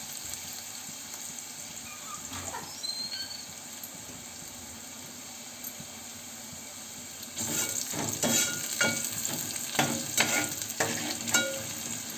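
Chopped onion frying in a pan, a steady low sizzle that turns into louder stirring scrapes and clatter partway through, close up, with no talking.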